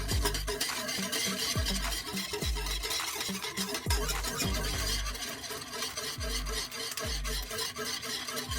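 Vegan cheese sauce thickened with tapioca flour being whisked in a pot, a steady, close series of rhythmic metallic scraping strokes repeating about once or twice a second.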